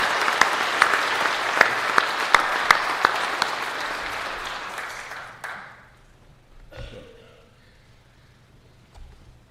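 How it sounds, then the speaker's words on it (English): Audience applause at the Grand Lodge of Indiana officer installation, a dense burst of many hands clapping for about five seconds before tapering off, followed by quiet room sounds and a faint cough. "If you would give them an applause."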